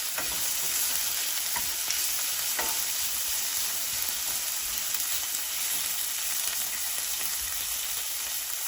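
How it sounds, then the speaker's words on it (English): Sardines frying in a pan over medium heat give a continuous, even sizzle with a few faint pops and clicks, steady and unbroken with no talking. "I'm just gonna allow this to fry up a little."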